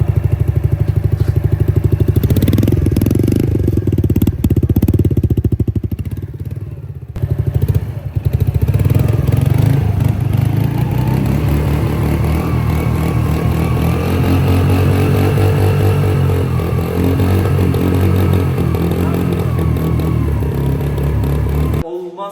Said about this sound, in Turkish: Motoru çalıştırayım.